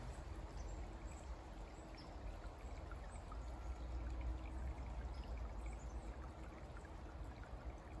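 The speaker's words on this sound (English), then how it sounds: "And check out this little stream." A small woodland stream on a leaf-covered Connecticut hiking trail flows softly and steadily, a faint continuous trickle and gurgle with no talking.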